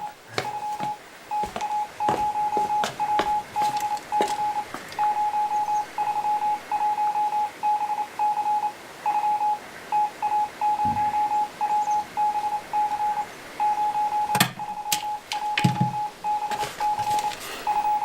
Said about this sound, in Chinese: 把咱们的谈话组成一个电报稿，发给博古和叶剑英同志